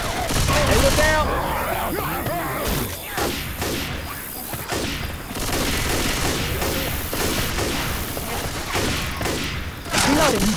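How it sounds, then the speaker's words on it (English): Rapid bursts of gunfire from a Left 4 Dead 2 match on Xbox 360, dense and continuous through the whole stretch with thuds and crashes mixed in, while players call out to each other over the shooting. "You do know you're shooting me, right?"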